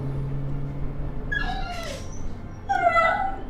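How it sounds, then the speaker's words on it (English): A pet dog calls out indoors in two drawn-out, wavering whining cries, the second louder and closer, over a low background hum. "Why is my dog yelling?"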